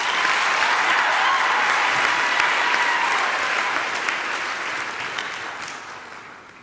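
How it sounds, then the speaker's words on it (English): A large graduation audience at a university ceremony gives sustained applause, dense, loud clapping that holds steady, then gradually fades toward the end. "Let's give them another round of resounding applause."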